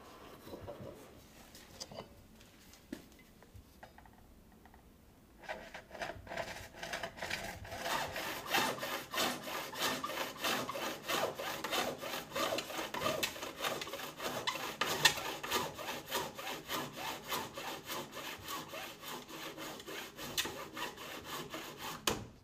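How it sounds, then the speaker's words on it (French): A hacksaw cuts through PVC pipe in quick, even back-and-forth strokes, starting after a few quiet seconds and continuing steadily up close. "Maintenez bien le tuyau et sciez-le sur mesure avec la scie à métaux."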